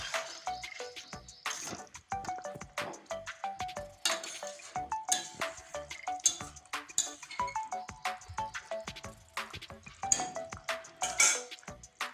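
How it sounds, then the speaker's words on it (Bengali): A lid is set on a cooking pot while a curry of fish, potatoes and green tomatoes simmers, clinks of metal cookware and utensils ringing out among steady kitchen clatter and faint sizzling. "এখন আবার আমি ঢাকন দিয়ে ঢেকে দিচ্ছি"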